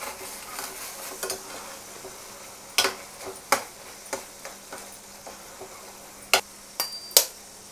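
Eggs added to ridge gourd frying in a pan and stirred, a faint sizzle under irregular sharp clinks and taps of a spatula against the pan.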